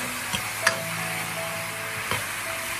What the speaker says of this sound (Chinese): 再快速的翻炒，将料汁翻炒均匀